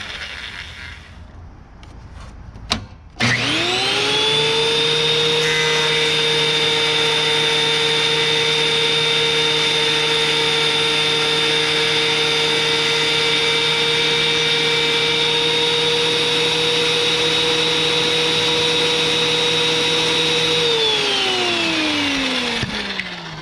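DeWalt DW734 benchtop planer working a wooden board: after a brief clatter the motor spins up into a loud, steady high whine with a strong tonal hum that holds for about seventeen seconds, then winds down, close and with no voices.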